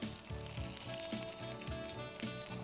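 Bread frying in a pan until golden brown on both sides, a close, continuous sizzle and crackle with no voices.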